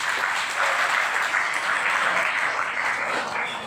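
Loud, dense clapping from a crowd of students and staff at a school Independence Day celebration, continuous and close throughout.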